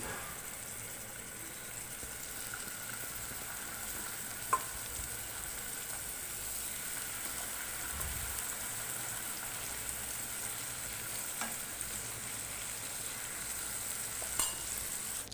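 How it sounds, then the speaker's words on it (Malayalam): Steady, dense sizzling of fish frying in a pan, with a few faint clinks over the continuous crackle. "അതും കൂടി ഇട്ടിട്ട് പൊരിച്ചെടുക്കാം"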